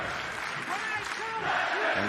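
A large wrestling crowd at the KFC Yum Center in Louisville chants and roars as a steady, dense wall of voices, with commentators talking over it.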